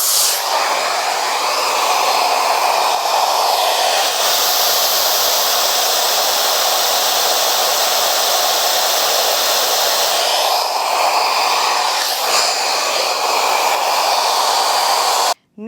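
A hair dryer blows steadily while drying curly type 3 hair, a loud, close, continuous rushing hiss that dips briefly twice as it moves and cuts off at the very end.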